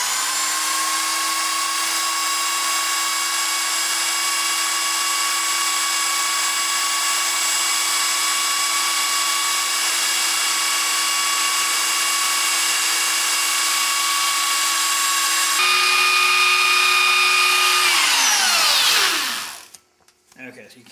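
A power grinder runs loudly and steadily with a high whine while sharpening a katana blade, then spins down and cuts off near the end.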